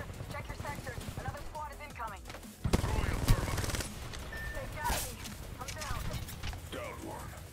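Video game gunfire in a multiplayer shooter match: bursts of rapid shots crack out loudly between about 2.7 and 4 seconds, with more scattered fire around 5 seconds, amid game effects and radio-style voice callouts.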